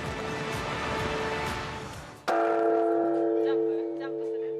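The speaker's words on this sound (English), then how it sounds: "crowds line up to ring in the new year by striking the temple bell" A large temple bell struck by crowds at New Year in Tokyo's Tokudai Temple, one heavy strike blooming into a long, ringing hum that sustains loudly over a background of crowd noise.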